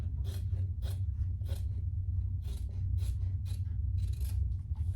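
Scissors trimming a fabric pattern piece for a sling pouch, about eight to ten crisp, close snips in an irregular rhythm over a low hum, with no talking.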